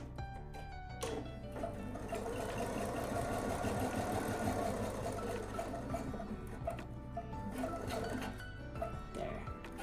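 Sewing machine stitching a partial seam on an All in a Row quilt top, a steady close mechanical whir with quick rhythmic clatter and brief pauses, no talk.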